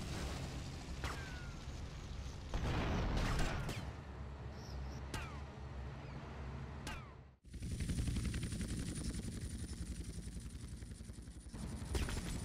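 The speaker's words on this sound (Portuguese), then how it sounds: "Vai derrubar o helicóptero." Rapid bursts of automatic gunfire and sharp shots crackle in GTA Vice City during a fight against a helicopter, a dense, loud barrage broken by a brief drop before more steady mechanical noise.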